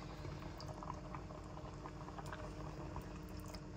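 Coconut milk boils in a pot with fish for ginataang isda with eggplant, a steady close bubbling and gurgling that stays even throughout the short stretch.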